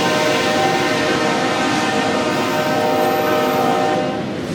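Loud train horn blaring in a long sustained chord as a train passes close by, its rumble continuing beneath and the horn fading slightly at the end.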